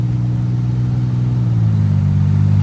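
A 2003 Ford Explorer Sport Trac pulls up a highway on-ramp at about 45 mph, its engine droning steadily with a low hum and rising slightly in pitch as it accelerates, heard from inside the cab.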